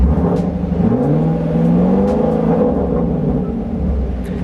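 A car engine revs steadily, pitch sweeping up and then easing off, loud and close with no talking.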